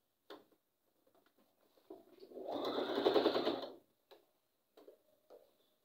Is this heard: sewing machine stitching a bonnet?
yes